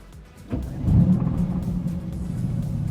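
A Mercedes-AMG GT S sports car's engine rumbles up from idle into a deep, steady growl, loud and close.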